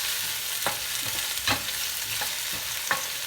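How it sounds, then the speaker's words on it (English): Onions fry in a pan for an egg noodle chicken and shrimp Alfredo, giving a steady hiss of sizzling broken by several soft scraping knocks as they are stirred. "the onions are starting to turn translucent"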